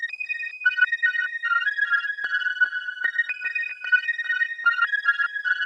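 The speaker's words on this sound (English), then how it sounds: "And this preset was added from Juno 6. It's the Thrill Seeker preset." Juno 6 synth on the Thrill Seeker preset, a thin bright lead line of quick staccato notes bouncing in a repeating pattern, clean and upfront with nothing else playing.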